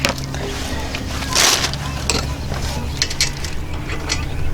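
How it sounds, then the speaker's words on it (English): Torque wrench tightening a brake caliper bracket bolt on a 2007 Ford Taurus, heard as close mechanical ratcheting and clicking with a sharper burst partway through, no talk over it. "So I'm going to torque on the caliper bracket first."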